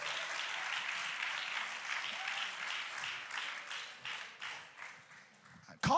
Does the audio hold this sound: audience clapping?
yes